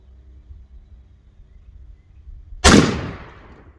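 A single sharp shotgun blast from a Sulun SS211 firing at a turkey pattern target from 20 yards outdoors, a loud sudden crack decaying quickly after quiet low background hum.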